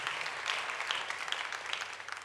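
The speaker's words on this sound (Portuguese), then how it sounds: "Você pode aplaudir o Senhor mais uma vez?" A church congregation applauds together, a dense steady wash of clapping sustained throughout, fairly loud and close with no voices standing out.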